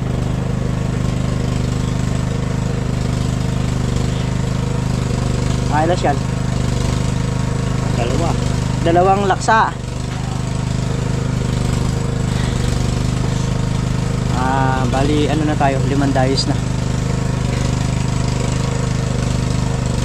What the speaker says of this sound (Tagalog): ulit natin yung grass cutter